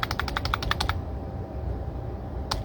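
Missile launch in the strategy game Warsmash: a rapid burst of about eight sharp, evenly spaced clicks in the first second, then a low rumble and one more short burst near the end.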